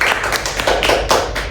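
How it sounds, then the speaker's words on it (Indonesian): Students in a classroom clap together in a few sharp, close, loud bursts, a quick rhythmic round of applause lasting just over a second. "tepuk tangan untuk kita semua"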